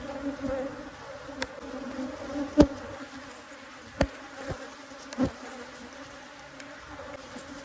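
Honey bees buzzing around an open, crowded hive during spring beekeeping in the Texas Hill Country, a steady close drone with occasional louder passes and faint clicks of handling.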